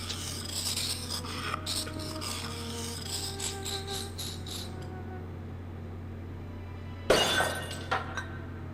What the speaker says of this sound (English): I smashed the tall urn into tiny pieces